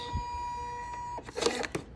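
A USB-connected weatherproof label printer runs a job: a steady electronic whine, then a short burst of whirring and clicking as the label feeds out, close and fairly quiet.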